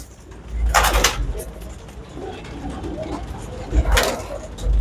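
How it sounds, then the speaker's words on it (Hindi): Pigeons in a loft make soft cooing and rustling, with two louder bursts of wing flapping as birds flutter nearby, and someone talks over the scene. "ये कबूतर हुए हैं जो उड़ते हुए आ रहे हैं"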